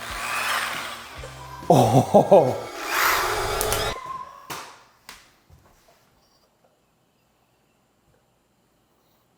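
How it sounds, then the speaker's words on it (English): A power drill spins an egg inside pantyhose to scramble it, giving a loud whirring buzz for about four seconds while a voice exclaims over it; a few softer knocks follow before near silence. "So can you use a drill bit to scramble up an egg before you cook it?"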